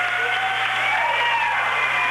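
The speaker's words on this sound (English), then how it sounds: "Good job to give the 5 seniors a nice round of applause as well." Crowd applause at a high school boys basketball senior night game honoring five seniors, a dense, steady roar of clapping from a gym full of fans throughout.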